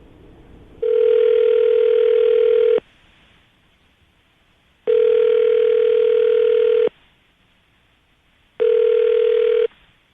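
Three long, steady ringing tones on a phone line, each about two seconds, separated by pauses of silence; clear and close, with no voices.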